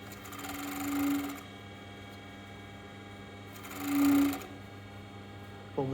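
A 514 four-thread overlocker stitching a rib collar onto a sweatshirt, two short bursts of fast mechanical whirring separated by a quieter pause, close and clear.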